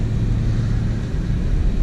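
A 2018 BMW 340i xDrive M-Sport, driven in Sport Plus mode, gives off a deep, steady engine rumble and drone heard from the cabin, loud and unbroken with no talk.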